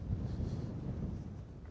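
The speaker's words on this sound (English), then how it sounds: "It's really windy." Strong wind buffets the microphone outdoors on a rural farm property. It makes a fairly faint, steady low rumble with irregular gusty pulses, and no one speaks.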